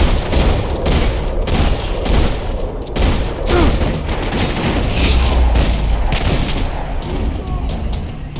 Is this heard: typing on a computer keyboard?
no